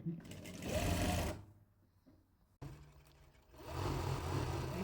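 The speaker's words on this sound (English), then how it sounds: "You stitch right down to the bottom." Sewing machine stitching down the side of a thick shirred dress, a steady mechanical whir that runs loud, drops away for about a second, then starts again and continues.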